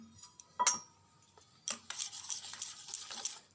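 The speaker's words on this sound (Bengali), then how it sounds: "চিনিটা যদিও আমি গুঁড়ো করে নিয়েছি, তবুও তেলের মধ্যে আগে চিনিটাকেই মেলাতে হবে।" A spoon stirs powdered sugar into white cooking oil in a large bowl for an eggless cake, soft scraping with a few light clinks against the bowl, quiet and close.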